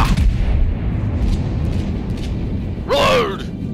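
Ship cannons fire in a naval video game, a heavy low booming rumble that rolls on after the shot, with a voice calling out near the end.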